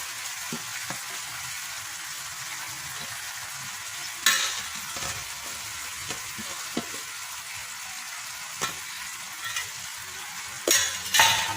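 Patra (colocasia leaf rolls) being stirred while they fry in a pan of tempering, with a steady soft sizzle broken by occasional scraping stirs and a few louder clinks of a utensil against the pan.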